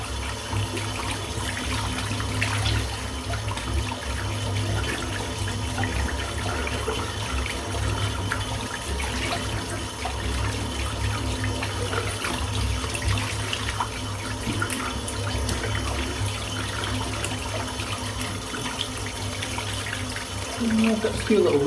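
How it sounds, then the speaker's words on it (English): A shaving brush is rinsed under a running tap, water pouring steadily into a sink for the whole stretch, loud and close with a continuous splashing rush. "Just going to rinse the brush out."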